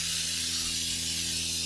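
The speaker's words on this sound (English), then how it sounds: "this next step, I recommend it being done, is to clean the brake parts. Just get some brake cleaner" Steady hiss of brake cleaner aerosol sprayed onto the front brake parts of a 2014 Honda Odyssey Touring Elite, a close, continuous spray over a faint low hum.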